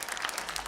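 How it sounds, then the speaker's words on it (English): Studio audience giving a round of applause at an interview presentation, a short burst of steady, dense clapping heard from the room at moderate level. "You can provide a round of applause."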